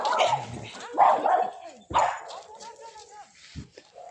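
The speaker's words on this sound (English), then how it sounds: "Dogs at war, wait there." Dogs bark, yip and whimper in a short excited outburst close by, with several sharp barks mixed with whining, while people talk nearby.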